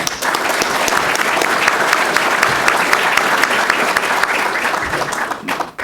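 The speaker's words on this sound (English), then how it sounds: "Round of applause." Audience applause at a print media panel event, a steady, dense round of clapping from a sizable crowd that holds evenly for several seconds and trails off at the end.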